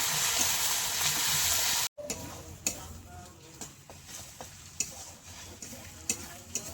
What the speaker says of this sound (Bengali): আর এই আদা রসুনটা একটু ভেজে নিলে কাঁচা গন্ধটা থাকে না, ওই জন্য একটু ভেজে নিচ্ছি।